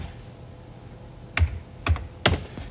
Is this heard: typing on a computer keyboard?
yes